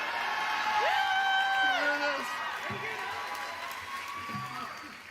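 Audience at the 2019 Game Awards live show cheering and applauding, a steady loud roar of crowd noise with whoops and voices rising over it throughout.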